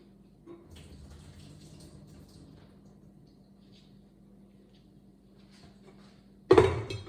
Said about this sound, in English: So I'm just gonna drain a little bit of this water off this broccoli.